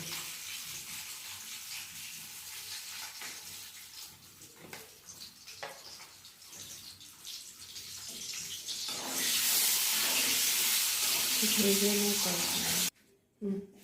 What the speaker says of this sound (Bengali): এই যে আমার ডিম ভাজা হয়ে গেছে